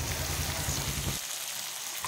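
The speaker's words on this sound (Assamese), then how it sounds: "এতিয়া অকণমান সময় ভাজি ল'ম।" Goat meat frying in a pan gives a brief, close hiss and crackle that drops back noticeably partway through.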